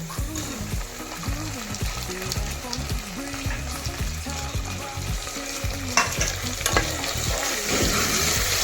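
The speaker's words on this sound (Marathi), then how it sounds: "कांदा अशा प्रकारे तळलेला आहे बघा, त्याच्यामुळे टोमॅटो घालून घेऊया" Onion and tomatoes frying for chicken pulao, a steady sizzle with intermittent stirring scrapes throughout, close and fairly loud over quiet background music.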